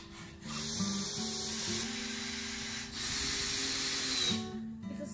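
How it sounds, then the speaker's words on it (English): Handsaw working through wooden planks for garden beds, a steady breathy rasping of repeated strokes with brief pauses, close and moderately loud outdoors. "now I've got to take it down again so I can saw it into"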